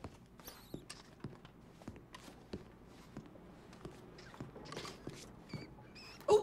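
Small rats scurry in the Red Dead Redemption 2 video game, producing a steady run of soft, quick ticks and patters over a quiet background with no talk.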